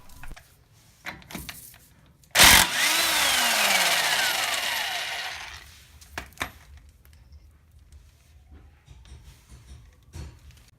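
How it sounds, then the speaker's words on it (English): An impact wrench breaks loose the bolt on the end of a front-wheel-drive car's drive shaft in one loud, whirring burst of about three seconds. Scattered clanks and metal handling sounds come before and after it. "The next step is to remove the bolt from the end of the drive shaft."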